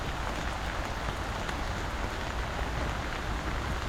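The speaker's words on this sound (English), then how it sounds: "All the beautiful flowers with the rain coming down" Steady rain falls outdoors in Baguio among flowers under a cloudy sky, a dense, even hiss of drops on surfaces that holds at a constant level throughout, with no voices.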